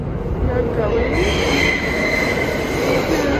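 A New York subway train rumbles close by, its wheels screeching and squealing in high drawn-out tones over a steady rolling roar.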